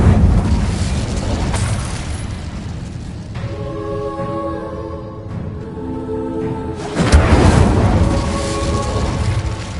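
The Incendio fire spell cast in the Hogwarts Legacy video game: a loud roaring whoosh of flame, then a sustained ringing harmonic tone, followed by another surging fiery blast.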